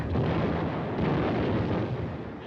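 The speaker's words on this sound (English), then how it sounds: "can't they see the shells bursting?" Artillery shells burst on a target range in a continuous low rumbling barrage of overlapping booms, muffled and fairly distant, with no distinct single blasts standing out.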